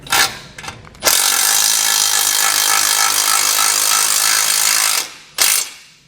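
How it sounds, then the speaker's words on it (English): A power impact tool drives a 1/2-inch flange nut with a 19mm socket while a Demco tabless base plate is fitted to a 2019 Ram 1500, one loud sustained burst of about four seconds, followed by a short second burst. "And then we'll tighten it down with a 19mm socket."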